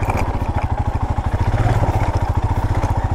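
A motorcycle engine runs close and loud on a solo long-distance ride in India, with a steady, rapid pulsing beat that holds for the whole stretch and no voices over it.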